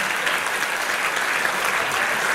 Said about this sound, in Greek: Το πιο δυνατό σας χειροκρότημα